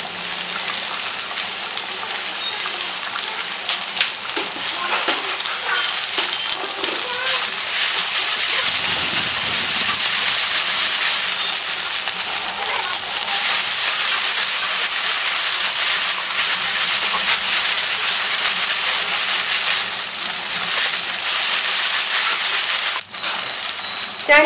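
Okra (ladies finger) sprinkled with salt sautés in a kadai, giving a steady, loud, dense sizzling hiss that runs unbroken for the whole stretch and dips only briefly near the end.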